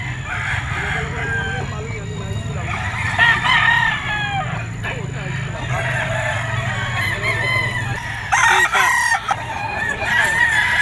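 Sweater gamefowl roosters at a busy pet market crow repeatedly, several loud close calls overlapping with clucking and a crowd hubbub, while someone talks over the birds.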